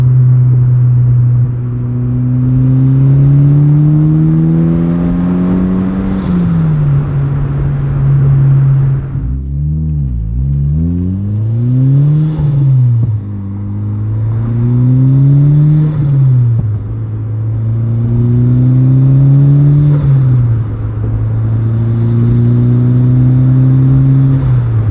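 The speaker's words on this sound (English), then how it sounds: "You can appreciate all the spooling noises, the pops from the exhaust." A turbocharged 2003 NB Miata revs through the gears, its engine droning loud and close while the turbo whistles as it spools and the exhaust crackles and pops on each lift-off.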